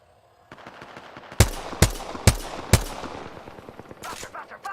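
Gunfire in a video game: four sharp, loud shots at a steady, evenly spaced rhythm, followed by a later quicker burst, all over constant game noise and background rumble.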